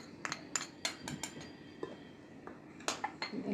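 Metal spoon knocking and scraping against a bowl while starch and baking powder are stirred into a coating for broasted chicken, a series of sharp close clinks spaced irregularly, with no one talking.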